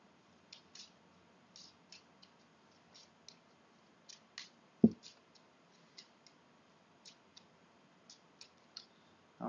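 Quiet, crisp clicks and light ticks of a Wine Rating game deck being shuffled, spaced irregularly in a hushed room with one sharper knock midway.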